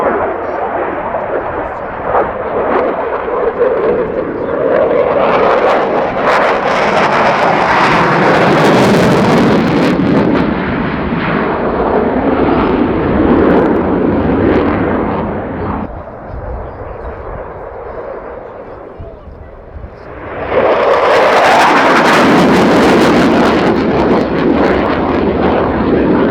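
A Saab Gripen fighter jet roars past at an airshow, flying slowly into a headwind, its loud broadband engine noise swelling, fading briefly, then surging again, with wind buffeting the microphone.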